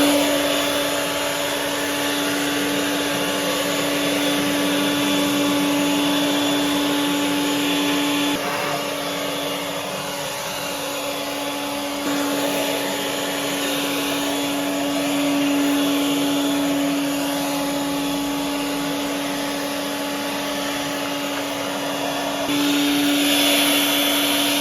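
Leaf blower running flat out at its top setting 6, a loud, steady high-pitched jet roar close by that holds almost unbroken, with only slight dips in intensity and no talking.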